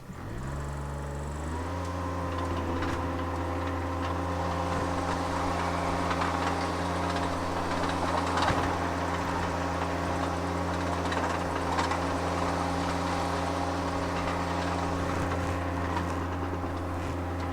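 Hyrax 27.41 compact tracked lift engine cranking and catching, then settling into a steady close droning idle with a strong low hum and faint clatter throughout, no talk.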